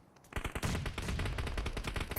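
Dense automatic gunfire in PUBG Mobile on the Erangel map, a fast sustained rattle of many close shots after a brief quiet start, with a grenade fight underway.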